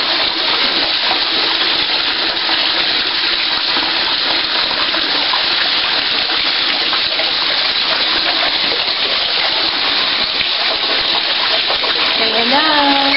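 A bathtub fills with a loud, steady gush of running water as a child bathes with bath toys, the rush constant and close throughout with faint bits of voice near the end.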